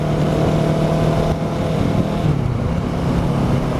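A Kawasaki Z650 motorcycle fitted with a Black Widow exhaust, ridden at a steady pace, its engine droning in a loud, continuous buzzing tone with slight shifts in pitch.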